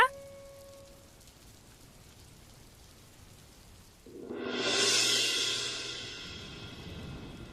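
Quiet background hiss, then a sudden swell of rain pouring down, a broad steady rush that builds and lingers.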